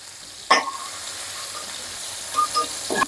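Eggplant and potato pieces fry in oil in a pan, a soft continuous sizzle broken by two sharp scraping stirs near the start and end.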